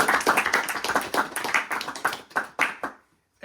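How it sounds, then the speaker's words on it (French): An audience at a religious class claps for a young man named Wassim, distinct hand claps rattling in an uneven stream that thins out and stops, leaving near silence at the end. "Bravo, Wassim. Applaudissez votre frère"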